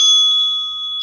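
A single bell strikes to open a research video presentation session, a bright clear ring that decays over about a second, loud and alone with no voices.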